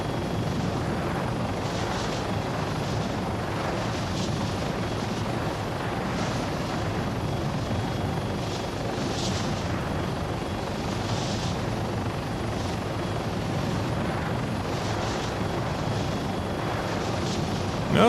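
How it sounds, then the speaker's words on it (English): A small helicopter in ArmA 3 with its advanced flight model drones with a steady rotor and turbine whine that holds at an even level for the whole stretch. "it's not a bad little helicopter."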